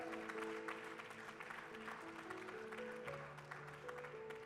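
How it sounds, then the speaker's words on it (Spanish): A church congregation claps in praise to the Lord, a soft, steady patter of many hands over sustained organ or keyboard tones throughout. "Dale un aplauso al Señor, por favor."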